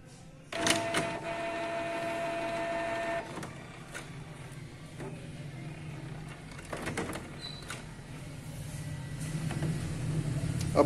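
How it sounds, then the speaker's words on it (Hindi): A Canon Pixma G2000 inkjet printer whirs and hums mechanically as it enters service mode, with a steady motor tone for a few seconds, then clicks and a lower ongoing rumble of internal movement. "यहाँ पे हमारा जो प्रिंटर है वो सर्विस मोड में जाएगा"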